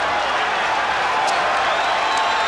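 Boxing arena crowd at the Evander Holyfield vs Larry Holmes fight, a dense, steady roar of cheering and applause after the 11th round, filling the space continuously at high volume with a few scattered whistles.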